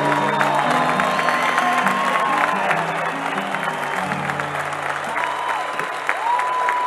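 A festival audience at the National Chamamé Festival applauds loudly and continuously, a dense wash of clapping with scattered cheers while music plays faintly underneath.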